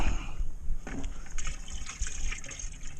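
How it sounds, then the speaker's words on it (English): Excess water is poured off the top of a capped container of joint compound, a close, gushing splash with short trickles and drips over a few seconds. "Dump off the extra water."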